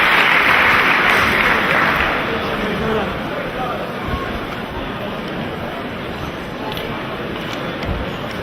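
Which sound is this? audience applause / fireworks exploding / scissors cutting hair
audience applause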